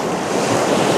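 Strong westerly wind roaring over the beach at Sandbanks with crashing surf, a loud, continuous buffeting rush with no voices.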